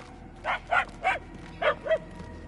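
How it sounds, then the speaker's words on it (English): A dog barks in the video game Marvel's Guardians of the Galaxy, giving five short, yelping barks in two groups at moderate distance, the last ones weaker, over a quiet low hum. "Barking is getting fainter."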